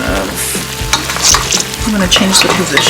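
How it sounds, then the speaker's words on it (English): Korean braised short ribs (galbijjim) stirred in a pot over medium-low heat, with close, loud scraping and clattering of the utensil against the pot and a wet, bubbling sizzle beneath, in quick irregular strokes and no talking. "Give it a good stir"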